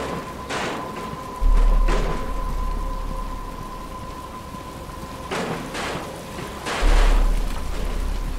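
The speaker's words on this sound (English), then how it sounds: "But it's starting to rain." Steady rain falls in a Batman: Arkham Asylum scene, with several broad rumbles of thunder swelling and fading over the downpour, the loudest near the end; no voices are heard.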